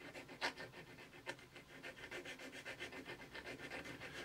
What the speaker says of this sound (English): I've got a nice flat file here. I'm just very gently taking some of the solder away and just smoothing it round.